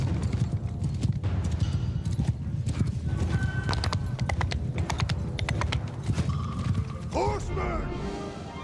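Cavalry horses moving in the video game Bannerlord: dense, continuous hoof clip-clop from many horses, with creaking tack and mechanisms, scattered shouts, and a loud horse whinny near the end.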